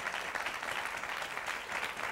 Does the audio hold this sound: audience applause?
yes